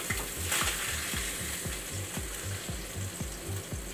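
Sea bass sizzles steadily in a hot pan, a soft continuous frying hiss under a faint repeating mechanical ticking, with no talking.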